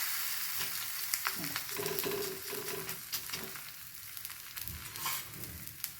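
Talipattu flatbread sizzles and fries steadily in oil on a hot pan, a continuous crackling hiss with occasional sharper pops and spatula scrapes, close and with no talking.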